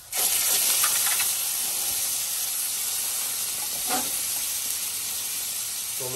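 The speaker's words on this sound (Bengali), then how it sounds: "টমেটোর সস ঢেলে দিলাম" Tomato sauce poured into a hot pan of fried garlic, chili powder and salt for pasta arrabbiata sets off a loud, steady sizzling hiss that holds for several seconds.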